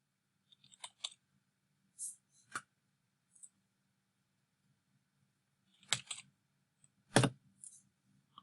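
Sparse, quiet clicks of typing on a computer keyboard, a few isolated keystrokes in small bursts with long pauses between them, close and alone with no talking.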